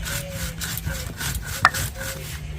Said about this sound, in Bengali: আমি এই শুকনো খোলায় ভেজে রাখা মশলাগুলো বেটে নিচ্ছি